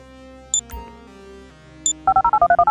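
Phone dialing in the video game GTA: a couple of short electronic blips, then a rapid run of about ten evenly spaced keypad tones, loud and close over a low hum.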